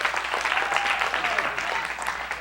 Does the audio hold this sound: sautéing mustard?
no